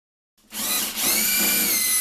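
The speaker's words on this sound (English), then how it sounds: "we're using the impact driver along with a socket to move all of these bolts off the floor on the inside of the rail." An impact driver fitted with a socket spins bolts out of a vehicle seat rail. After a brief silence it starts as one loud, continuous whirring run close to the listener, with no talk.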